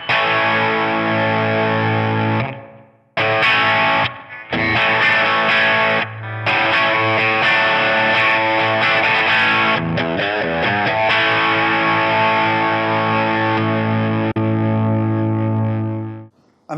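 Crunchy overdriven tone from an Epiphone Les Paul Classic electric guitar, loud strummed chords and riffs with a few short gaps between phrases, sustained notes filling most of the stretch.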